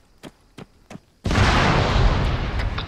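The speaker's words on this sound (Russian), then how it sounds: "Что-то взорвалось" A loud explosion bursts in a tank battle video game, a broad roaring blast that follows three short knocks and rumbles on to the end.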